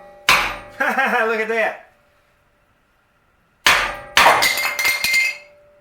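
A sledgehammer strikes a pickup truck's steel cross member, with a couple of sharp, loud metallic blows close by after a brief spoken remark and a quiet gap.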